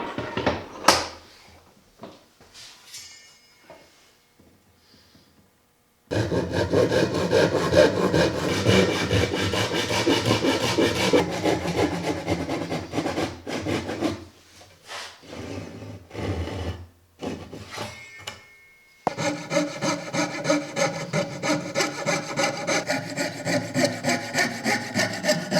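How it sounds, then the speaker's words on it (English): Hand sawing of wood with a Japanese ryoba saw and a fret saw, steady rhythmic back-and-forth rasping strokes, close and loud, with a pause midway and a quieter stretch at the start. "Here I use my Japanese ryoba saw and a fret saw."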